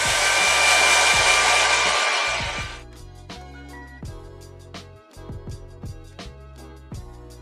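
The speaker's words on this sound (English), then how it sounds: "I'm gonna go ahead and blow dry that area so that I can like kind of, so the wig cap can like stick to my hair" A hair dryer blows loudly and close while drying hair over a wig cap, then switches off after about two seconds, leaving quieter handling and tapping sounds.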